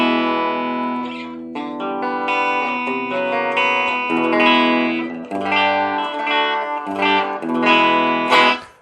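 A clean electric guitar, a Squier Affinity Series Telecaster on the bridge pickup, plays a run of chords and single notes, bright and unaccompanied, with a light reverb tail.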